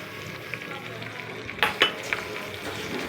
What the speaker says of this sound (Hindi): ऑयल में हमने भिंडियाँ ऐड कर ली हैं।